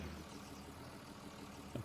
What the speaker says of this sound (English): It's a very loud tractor.